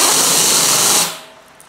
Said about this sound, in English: Push it up and then let's engage the drawbar.